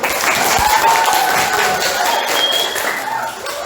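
Classroom of students applauding together, a loud, steady wash of clapping that holds for several seconds before tapering slightly.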